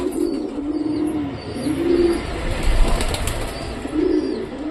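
Pair of pigeons perched up high on a home rooftop, giving repeated low soft coos in a slow pulsing rhythm over faint background ambience.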